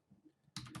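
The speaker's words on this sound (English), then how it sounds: "So I'm just going to type in that address." Keys on a computer keyboard clatter in a quick close burst of typing as an IP address is entered, after a moment of near silence.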